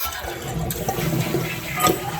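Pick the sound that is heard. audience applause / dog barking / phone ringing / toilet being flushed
toilet being flushed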